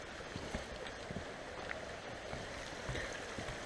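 Limpy Creek rushes along as a river, giving a steady broadband hiss of flowing water heard close by and fairly soft, with faint knocks scattered through it and no voices.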